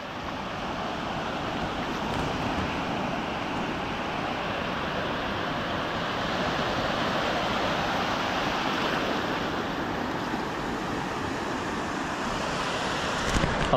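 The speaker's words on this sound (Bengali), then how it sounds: "দেখো ঢেউটা আবার আসবে।" Sea waves breaking on the beach at New Digha, a steady, loud surf wash that rolls on without a break, with some wind noise on the microphone and no voices.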